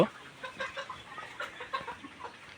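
Several hens on a poultry farm cluck in short, uneven bursts, moderately close and fairly quiet, a loose chatter of the flock with no one speaking.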